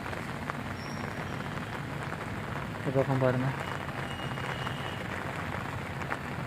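Steady rain falls across a garden, a dense even patter throughout with a brief tonal burst midway, while a person speaks over it.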